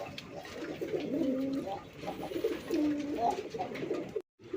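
Deshi Rajgolla pigeons coo in a series of soft, rolling, repeated calls, moderately close, with a faint voice in the background.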